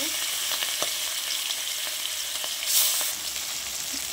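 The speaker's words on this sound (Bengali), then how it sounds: "দেখো বন্ধুরা, মাছটাকে কড়ার মধ্যে দিয়ে দিলাম। এবার মাছটাকে ভাজা হবে।" Fish sizzles steadily in oil in a kadai for a Bengali fish dish, a continuous bright crackle with a few sharper spits and a brief louder hiss near the end, with no voices.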